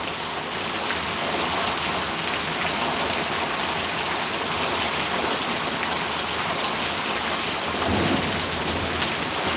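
Thunderstorm with heavy rain pouring steadily onto a flooded backyard and vegetable garden, a dense continuous hiss with a low rumble of thunder swelling near the end.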